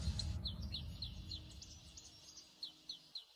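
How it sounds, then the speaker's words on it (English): Birds in the Amazon rainforest give a series of short, evenly spaced chirping calls, faint and somewhat distant over a low background hum that cuts off near the end. "these social birds rely on loud, echoing calls to communicate"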